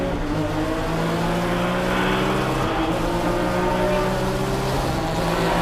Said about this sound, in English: Cars are cresting the hill when they took the green flag at over 120 miles an hour.